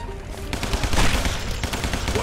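Rapid gunfire from the mob shooter game Guns, Gore and Cannoli, a dense, loud stream of shots rattling steadily through the whole stretch with no talk over it.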